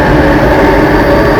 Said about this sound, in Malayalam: ഇപ്പം ആ മെട്രോ ട്രെയിൻ പോകും.